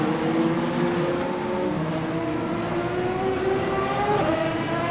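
Ferrari and Corvette race cars howl past during the 6 Hours of Imola endurance race in the sim game Le Mans Ultimate, engines droning loud and steady with shifting pitch, close by, with no voices.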